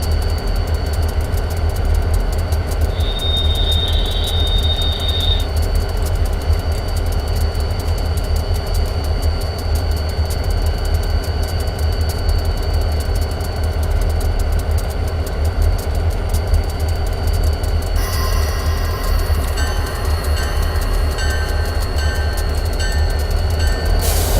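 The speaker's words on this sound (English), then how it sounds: "You can notice the air compressor is in sync with the RPMs." A GP40-2 diesel locomotive rumbles in a train simulator game, its engine a steady low drone with an air compressor running alongside, joined by a brief high tone early on and brighter mechanical whine later, no voices.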